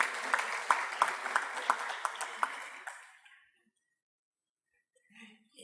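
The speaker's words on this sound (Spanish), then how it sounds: "Lo recibimos con un aplauso" A conference audience applauds to welcome a panelist at a regional innovation panel, the clapping brisk and moderately loud for about three seconds before fading into near silence.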